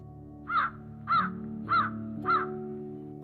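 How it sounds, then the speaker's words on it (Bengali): Harsh, hoarse caws from ravens, four evenly spaced calls in a steady rhythm, fairly close and clear over a quiet low background hum. "দাঁড় কাকগুলো সেই সকাল থেকে কর্কশ সুরে ডেকেই চলেছে"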